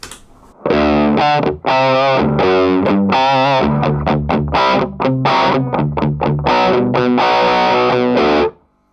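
Distorted electric guitar lead through a gain pedal, bright and loud, a run of sustained notes and quick phrases with a slightly noisy edge, playing alone for about eight seconds before cutting off.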